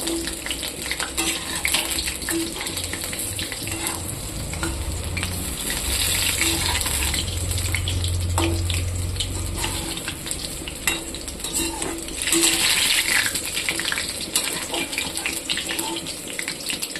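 Kacha motor (green pea) fritters frying in oil, a continuous close sizzle and bubbling with stirring noises, steady throughout with a slight swell near the end.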